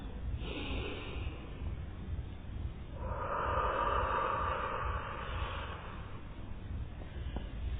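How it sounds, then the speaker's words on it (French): A deep, slow breath during a guided meditation: a long airy inhale followed by a steady, audible exhale, close to the microphone over a low constant background hum. "Grande respiration."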